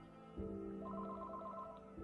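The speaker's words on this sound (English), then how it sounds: "Fields' phone rang." A telephone rings as a sound effect: a soft, steady electronic ring tone that pulses in a repeating pattern at low volume, with no voices present.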